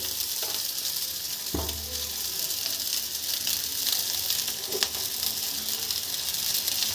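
Chow mein noodles frying in a pan for a black-and-white egg chicken chowmein, a steady hissing sizzle with a few sharp stir clatters and scrapes, close and continuous with no talking.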